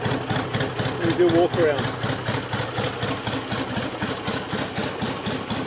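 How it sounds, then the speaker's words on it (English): A 1963 BSA Rocket Gold Star motorcycle engine idles steadily nearby, with a fast even tick-over and loud beats, while someone talks over it. "When that's warm, the tick over speeds up a little bit."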